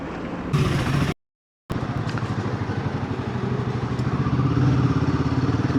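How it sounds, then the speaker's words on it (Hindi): Motorcycle riding on a mountain road toward Kedarnath, its engine a steady close rumble with rattling clatter and wind, broken by one brief cut-out before the drone resumes and swells slightly. "और ये अपनी बाइक है।"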